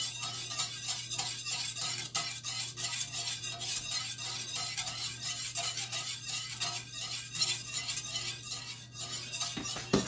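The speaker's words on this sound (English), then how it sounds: "This is simmering." Chocolate pie filling simmering in a pot on a stovetop burner: a steady, close bubbling hiss with scattered light clinks of a utensil and a low electrical hum beneath.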